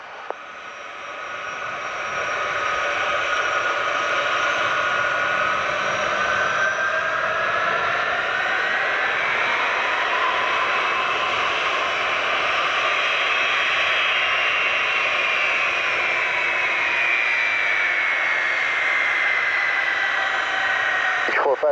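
Heavy military aircraft taking off from runway 10 at RAF Mildenhall, a loud sustained engine roar and whine that swells and shifts in pitch as it passes.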